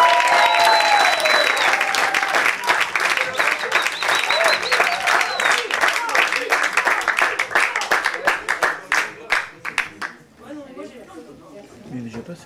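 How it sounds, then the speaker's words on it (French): An audience at a Paris slam poetry final claps loudly for a poet, with bursts of whistles and cheers; the clapping thins out near the end as talk takes over. "Et le premier poète que vous allez applaudir"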